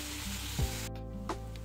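Potatoes fry in a pan in a home kitchen, giving a steady, close sizzle that runs throughout, with a faint tonal hum in the background.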